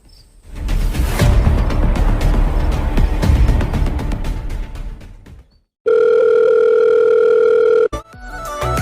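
A telephone ring-back tone plays steady and loud for about two seconds after a stretch of dense noise, then cuts off abruptly as the call waits to be answered.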